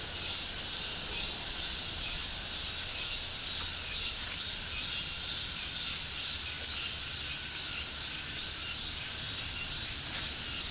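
A cicada shrills in a continuous, loud, unbroken drone with no pauses, heard on its own with no speech over it.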